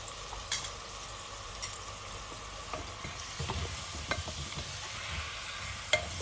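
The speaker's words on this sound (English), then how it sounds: "Now I'll just mix all the spices so that they get coated well, and there are no lumps." Spices being stirred in a pan while cooking lotus root in yogurt sauce, soft scraping and scattered utensil taps over a low continuous sizzle, close and unhurried.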